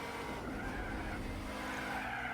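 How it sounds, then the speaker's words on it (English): Fiat braking hard in Gran Turismo 4 with tires skidding, a loud sustained squealing skid over a steady engine drone, continuous and close for the whole stretch. "the hard braking there from the Fiat"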